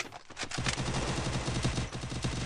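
Rapid bursts of gunfire in a shooter video game, dense automatic shots overlapping one another in a loud, continuous rattle.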